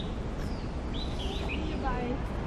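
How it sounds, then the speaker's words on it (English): Faint birds chirp and tweet in the distance over a steady outdoor wash of background noise, with a few brief high calls. "I'm sure you could still hear the birds in the background, actually."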